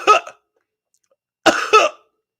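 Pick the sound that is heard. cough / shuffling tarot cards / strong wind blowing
cough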